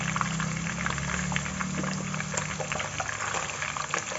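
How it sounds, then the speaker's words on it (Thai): Tofu fries in hot oil in a home kitchen, a steady, close sizzle and bubbling that holds evenly throughout over a low background hum. "เต้าหู้เราก็ทอด"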